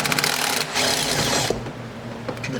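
A 10mm socket wrench loosens bolts on a pickup truck cab pillar during a cab light installation, giving a rapid, close ratcheting clicking that runs steadily before easing off.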